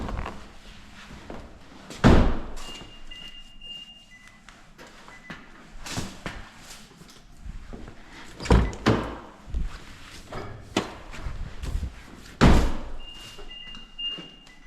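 A car's fuel door and gas cap are handled while checking for a loose cap on a vehicle with a large EVAP leak, giving several sharp thunks and clicks of varying loudness spread through the clip, with faint squeaks between them.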